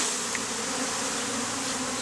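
Honey bees buzzing in a dense, steady drone as they are shaken off into a box during a bee removal, close and continuous with no talking.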